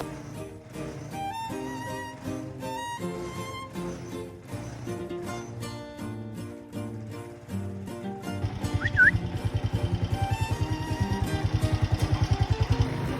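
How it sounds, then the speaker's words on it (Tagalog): A father's motorcycle with a sidecar, a kulong-kulong, runs on a farm, its engine putting out a rapid, even low pulse that starts partway through after quieter tonal sounds. "pinandar ko na yung motor ni Papa kong kulong-kulong para pumunta dun sa garden"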